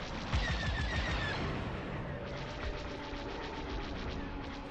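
Rapid bursts of laser cannon fire from a starfighter in Star Wars Squadrons, shooting at X-Wings, repeat in quick rhythmic volleys over a constant engine roar, loud and close.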